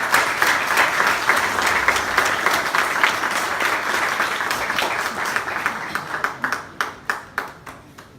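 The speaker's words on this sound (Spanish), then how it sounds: "vamos a darle un aplauso al Pastor Jonathan" A church congregation gives steady, full applause that holds for several seconds, then loosens into a handful of separate, spaced claps as it dies away.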